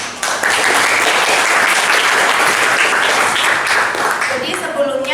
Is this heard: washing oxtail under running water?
no